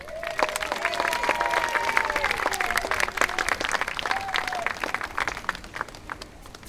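An audience bursts into sustained applause at a Winfield Scott birthday celebration as Arizona's official historian is introduced, with dense clapping and a few whoops and cheers that fade toward the end.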